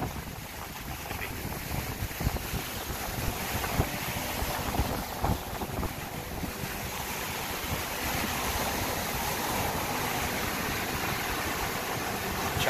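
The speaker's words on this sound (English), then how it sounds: "Choppy waves today. It's coming in." Choppy ocean waves roll in as a steady wash of broadband surf noise, with wind buffeting the microphone throughout and the surge building slightly louder toward the end.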